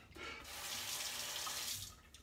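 A tap runs into a sink while shaving gear is prepared, a steady hissing splash that swells and fades slightly over a couple of seconds, fairly quiet and with no voices.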